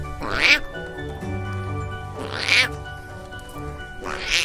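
A human voice imitates a frog caught by a snake, three harsh, strained squawking cries spaced about two seconds apart, close and loud over a faint hum.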